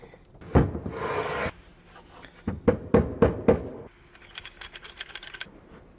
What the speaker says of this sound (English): And now I'm tightening.